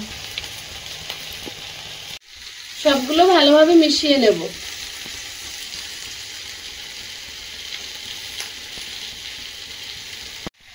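Mustard oil in a wok gives off a soft, steady sizzle and crackle. Someone speaks briefly over the frying partway through, and the sizzle continues quietly once she stops.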